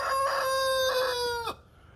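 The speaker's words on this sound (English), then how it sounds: "yeah, chickens." A nearby rooster lets out one loud, drawn-out crow that cuts off sharply, with chickens around it.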